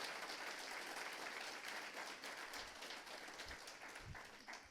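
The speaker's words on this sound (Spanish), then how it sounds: "¿Cuánto le dan un aplauso a Cristo Jesús en esta mañana?" A congregation at an Easter Sunday resurrection service claps for Jesus Christ, a faint, distant and steady patter of applause with a few low thumps late on.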